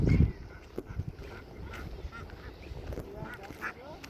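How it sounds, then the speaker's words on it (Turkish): Loud honking calls from ducks sound repeatedly nearby, harsh and irregular, against a rumbling outdoor background in a neighborhood with a heavy thump at the start. "Bakın arkadaşlar ördeklerim burada."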